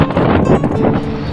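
Strong wind sweeps across open salt pans and buffets the microphone with a loud, continuous low rumble and gusty fluctuations throughout.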